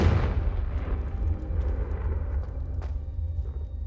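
Fiery Confringo spell blasts striking candelabras in the Hogwarts Legacy video game, a loud booming burst at the start that rumbles and crackles on, with a sharp second crack near the end.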